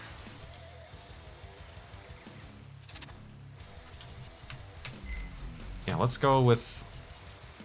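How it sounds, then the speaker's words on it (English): Rain falls in the DiRT 3 racing video game, a steady soft hiss running beneath engine noise while someone talks briefly near the end. "now it's raining"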